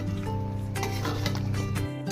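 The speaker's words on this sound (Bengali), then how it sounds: "এবার অল্প পরিমাণে জল দিয়ে মশলাটা ভালো করে কষিয়ে নিব" Spice paste with turmeric and chili powder being stirred and fried in a pan for a duck curry, with a steady low sizzle, scraping strokes and occasional utensil clinks close by.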